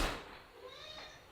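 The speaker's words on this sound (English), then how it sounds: "The cat wants to jump in" A house cat meows briefly near the microphone while heavy rain falls outside, a short single call standing over soft background noise.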